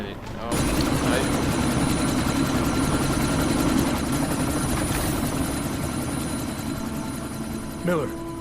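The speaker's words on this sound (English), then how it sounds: "That chopper's about to take off!" Helicopter in the video game Deus Ex Mankind Divided, a steady, loud rotor and engine drone that starts abruptly and holds throughout, with a brief burst of voice near the end.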